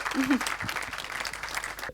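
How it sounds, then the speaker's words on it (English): Applause from a conference audience at KCD Austria following a talk on community awareness through writing, moderate, scattered clapping mixed with a voice speaking over it, fading toward the end. "give a little bit of applause"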